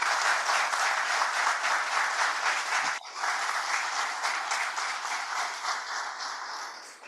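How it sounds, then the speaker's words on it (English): An audience at a Skål Connections NASC 2025 gathering claps loudly and steadily, with a brief dip in the middle before the dense applause resumes and slowly tapers near the end. "Could we give a round of applause for Liam Brown?"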